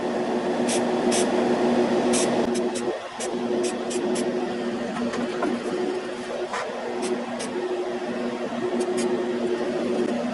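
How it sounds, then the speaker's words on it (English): Flat black paint sprays from a small rattle can onto an HO scale EMD FT locomotive model, a steady close hiss running throughout with a few brief dips between bursts. "I'm going to do this with just a rattle can"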